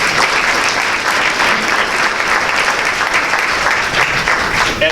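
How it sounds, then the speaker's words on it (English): Applause at an awards dinner, dense and steady clapping from a sizeable audience lasting several seconds at full volume. "And I think they also deserve a round of applause."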